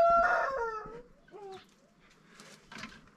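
A male peacock calls at a rural gaucho village near Cafayate, Argentina: one loud, harsh, honking cry up close, followed by two fainter, shorter calls with a quieter stretch between them.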